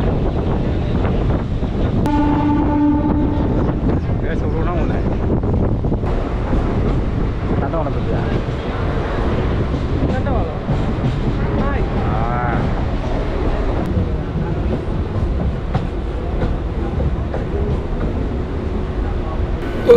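A train rolls into Arakkonam Junction on the Chengalpattu to Arakkonam route, a steady rumble of wheels and carriages with wind buffeting the microphone, a brief horn-like tone early on, and a voice talking over it.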